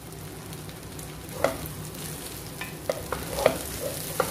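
A spoon stirs cinnamon, cloves, cardamom and dried lemon into a pot for smoked mandi rice, giving a low simmering hiss under a few sharp metallic scrapes and taps against the pot.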